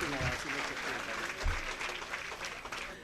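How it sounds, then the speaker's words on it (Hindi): Audience applause at a gold and diamond jewellery lucky draw, sustained crowd clapping at moderate level with a few low thumps and voices mixed in. "बहुत ज़ोरदार तालियां होनी चाहिए।"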